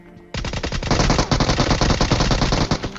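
Loud, sustained automatic gunfire from a shooter video game erupts suddenly after a brief quiet moment, with rapid close-range bursts continuing steadily to the end, accompanied by no speech.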